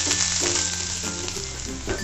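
Curry leaves, green chili and ginger fry hard in a hot pan, giving a loud, steady sizzle with bursts of crackle and spatter throughout.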